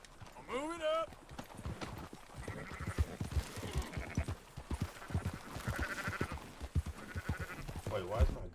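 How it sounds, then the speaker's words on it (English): Sheep bleating in Red Dead Redemption 2, several cries over steady game noise while a person keeps talking throughout. "I just missed a whole group of sheep."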